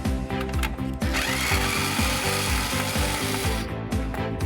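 A motherboard screw is backed out of a Lenovo ThinkCentre M91p small-form-factor PC case with a powered driver, giving a loud, steady whirring rattle with rapid ratcheting pulses throughout.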